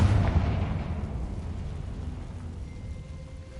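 A fire-blast spell explodes in Hogwarts Legacy, opening with a loud low boom that rolls off into a fading rumble over a few seconds.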